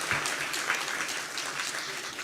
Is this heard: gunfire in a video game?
no